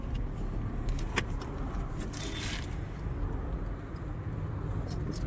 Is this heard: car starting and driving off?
yes